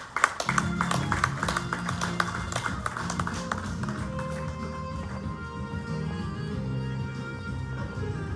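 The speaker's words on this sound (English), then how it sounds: "Please, a round of applause for him." An audience at a book launch applauds with crisp, scattered claps that are strongest at first, then thin out as soft music continues underneath.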